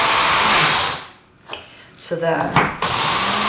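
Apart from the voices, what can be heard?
grinding spices for meatloaf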